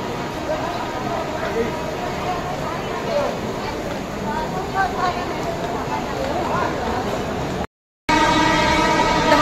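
A busy Thane-bound commuter train platform in Mumbai with a crowd talking over rumbling rail noise; the sound briefly cuts out near the end before resuming.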